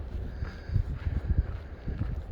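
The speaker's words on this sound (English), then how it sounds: "There's a good amount of wind, as you might guess, but it's not too bad." Gusty wind buffets across open, dry rolling hills at a wind farm, rumbling low and uneven in close bursts against the microphone.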